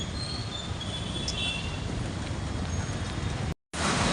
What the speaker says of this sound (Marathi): इथं मेट्रो बघा जाते